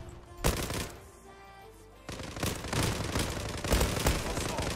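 Gunfire in the video game Zula, with a sharp shot near the start and then bursts of rapid automatic fire packed closely together in the second half, loud and close.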